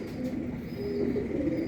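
A breeder pigeon of the Teddy type coos softly in low, rolling notes, close and continuous, with no talking over it.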